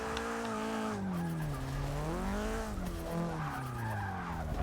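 A Nissan 240SX drifts in Forza Motorsport 6, tires squealing continuously as the car swings back and forth, the pitch rising and falling with each slide, loud and close with engine drone underneath.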